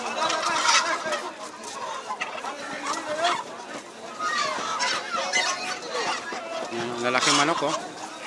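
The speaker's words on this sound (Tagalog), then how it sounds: "Yan, lalaking manok oh." Live rooster and other fowl clucking and honking amid a crowded early-morning market in Riyadh, with people talking loudly throughout over the bird calls.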